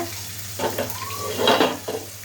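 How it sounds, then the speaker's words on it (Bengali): Marinated chicken goes into a pan of frying tomatoes for chicken biryani, with soft stirring scrapes and bursts of sizzling that swell and fade at low volume. "এখন আমি আগে থেকে যে মাংসগুলো ম্যারিনেট করে রেখেছিলাম ওই মাংসটা এখন পুরোটা দিয়ে দিব"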